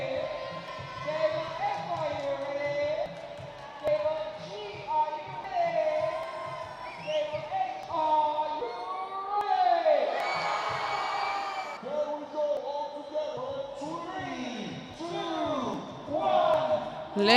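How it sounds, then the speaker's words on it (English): A robotics team shouts and cheers excitedly for their LEGO robot at a FIRST LEGO League Africa championship table, a lively crowd of young voices rising and falling throughout under commentary. "cheering on their robot before it's even started"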